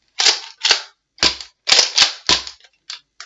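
A Nerf Cyclone Shock toy blaster fires a rapid series of sharp, loud pops at close range, about eight shots in uneven bursts, each ending with a short mechanical rattle.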